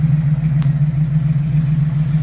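A 1972 Chevy Nova SS with a 427 big block and Muncie 4-speed idles loud and close, a deep steady rumble with an even throb and no voices over it.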